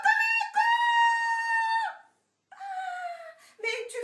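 A voice imitates a rooster crowing with long, strained, high-pitched calls, repeated a couple of times with a short pause between, in a French children's story.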